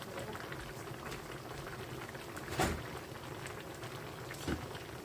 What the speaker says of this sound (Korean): 명란을 넣고 같이 조리해요.